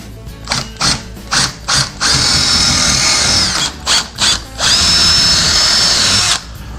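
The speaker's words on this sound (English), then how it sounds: "so we're going to be making our pilot hole." A power drill bores pilot holes into wall studs for mounting living wall panels, with several short bursts followed by two longer, steady runs, loud and close.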